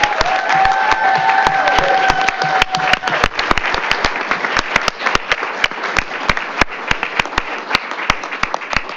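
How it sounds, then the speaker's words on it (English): An indoor audience at a school board meeting applauds award winners, a dense run of sharp, close hand claps that starts thick and thins toward scattered claps, with a brief tone early on. "so let's give them one more round of applause"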